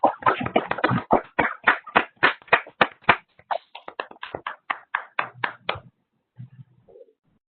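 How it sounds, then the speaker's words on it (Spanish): Clapping comes through open microphones from participants joining an online session, a string of about two dozen sharp, close hand claps in a fairly regular rhythm that thins out and stops, followed by faint brief sounds. "Les pido activar sus micrófonos para darle un fuerte aplauso a nuestro ponente"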